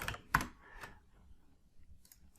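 Keystrokes on a computer keyboard while Python code is entered. A few sparse, faint clicks with short gaps between them sit in an otherwise quiet room.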